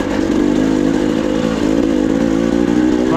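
Motorcycle engine on a Tornado single-track trail spinning up hard over slick rocks, a loud, close, continuous high-revving drone with wheel-spin surges and a rising pitch near the end.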